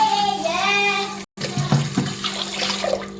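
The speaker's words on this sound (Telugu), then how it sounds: "వాటర్ పోసుకోవాలి దీంట్లో" Water poured from a vessel into a bowl of sugar set on a stove for gulab jamun syrup, a steady close splashing pour with a brief break midway.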